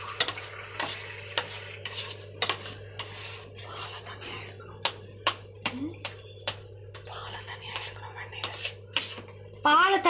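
Hands mixing and kneading a homemade ghee mixture with added water, giving soft, irregular squelching clicks and light taps, close and quiet against a steady low hum, with faint breathy voice now and then.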